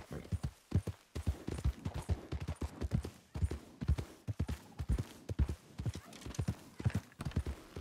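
Horse hooves clip-clopping at a steady walk in the Red Dead Redemption 2 video game, an even, close rhythm of soft thuds running throughout, with no speech over it.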